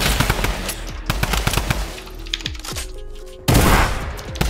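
Rapid automatic gunfire from the Fortnite video game crackles in loud, close bursts, with single shots and short volleys ending in a heavy final burst.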